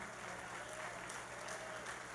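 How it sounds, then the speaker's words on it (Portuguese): A church congregation claps for a woman during a service, a faint, continuous patter of applause over a steady low electrical hum, lasting about two seconds. "Vamos aplaudir a irmã Margarida."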